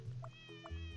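Short cartoonish cat meows from the puzzle game Cats Organized Neatly, two quick mews a few tenths of a second apart, sounding under soft background music.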